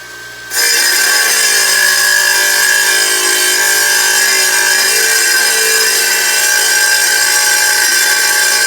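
A power saw cuts 2.5-inch wood pieces for a pleco breeding cave, starting abruptly after a brief pause and then running loud and steady with a high whine throughout.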